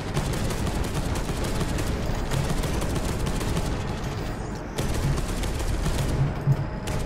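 Dense, continuous gunfire from the Deathwing video game, with rapid overlapping shots sustained at a loud level through the whole stretch and no talk.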